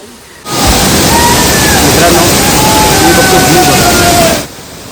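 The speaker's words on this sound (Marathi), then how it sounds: "समोर आहे धबधबा" A loud, roaring rush of falling water fills most of the clip, starting abruptly and cutting off near the end, broad and constant like a nearby waterfall, at Gauri cha Kada near Sheravli village.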